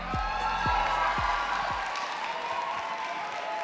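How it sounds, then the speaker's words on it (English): Crowd applause fills the hall at the Miss South Africa 2021 finale, a steady, dense wash of clapping that holds evenly throughout, with a few low thumps early on. "Let's give a round of applause"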